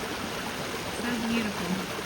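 Steady broadband rush of flowing creek water on a winter farm with icicles along the creek, continuous and fairly close, with a faint low hum drifting in partway through.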